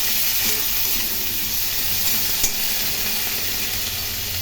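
Potatoes, onion and green chilli fry in a pan for a fish-head mixed rice dish, giving a steady, close sizzle with faint stirring scrapes and no voices.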